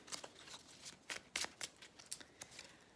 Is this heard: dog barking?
no